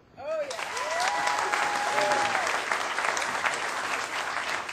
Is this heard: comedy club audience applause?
yes